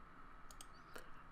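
A few quick computer mouse clicks, close and faint against a quiet room hum, two in rapid succession followed by one more a moment later.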